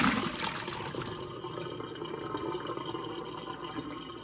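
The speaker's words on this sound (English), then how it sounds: "Now we're going to strain the water off our potatoes." Water pours and splashes as it is drained off soaked potatoes, a fairly faint, steady trickling gush that is strongest at the start, with no voices.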